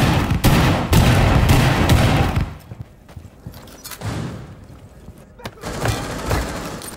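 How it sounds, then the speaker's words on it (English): A cluster charge detonates in Rainbow Six Siege, unleashing a loud, close barrage of rapid blasts. The barrage thins into scattered thuds, then flares up again with further bursts at the end. "Detonate cluster charge."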